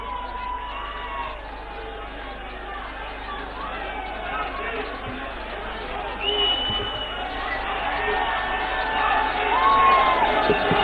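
A large crowd at a BJP political gathering in Delhi cheers and shouts in a steady roar that grows louder toward the end, with babble throughout and no clear rhythm of clapping.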